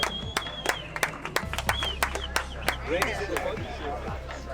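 Scattered claps from a team welcoming drivers in at an event in Doha, irregular sharp hits with a low engine-like drone and speech underneath.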